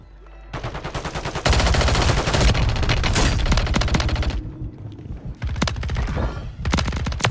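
Loud, continuous SMG fire in Call of Duty Warzone Rebirth, with long rapid bursts that barely break, a short lull, then more rattling volleys close up.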